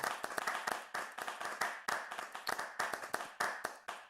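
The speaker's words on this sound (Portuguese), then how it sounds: "Uma salva de palmas para todos aí." A small congregation applauds during a church Bible study gathering, steady rapid clapping with several hands throughout, moderately close and without speech.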